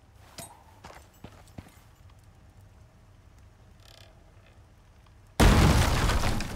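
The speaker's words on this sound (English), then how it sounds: "So we're going to throw two grenades here." Grenade blasts in the survival game Icarus: a few soft taps and clicks, then a sudden loud explosion that bursts in near the end and keeps roaring to the finish.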